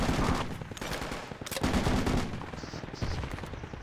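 Dense bursts of automatic gunfire and single shots crackle in a chaotic firefight in the Vietnam-era tactical shooter Project Reality on the Charlie's Point map, loud and continuous with a few sharper cracks.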